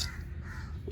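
A crow caws loudly and nearby, a harsh call standing out over low background rumble.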